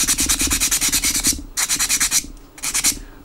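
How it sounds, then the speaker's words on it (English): Sandpaper rubbing against small wooden parts of an HMS Victory model kit, three close bursts of quick rhythmic back-and-forth strokes separated by short pauses. "Sand just these couple down."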